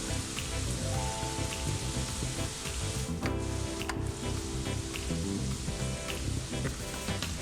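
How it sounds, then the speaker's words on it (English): A sandwich with Boar's Head Vermont cheddar frying in a pan gives a loud, steady sizzle and crackle, continuous and close throughout, with a couple of brief sharper spits partway through and no voices. "You're going to get a nice crust on the outer edge as it fries in the pan"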